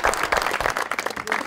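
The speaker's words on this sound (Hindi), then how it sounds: "बहुत सारी तालियां जी" Studio audience on a Pakistani talk show applauding a singer's performance, a dense burst of clapping with some voices mixed in, steady and fairly loud throughout.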